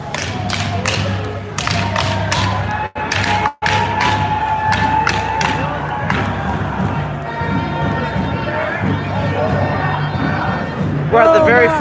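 A dense crowd marches through a Victoria, BC city street, with a steady wash of many voices, scattered cheers and thumping footsteps close around, loud and continuous throughout.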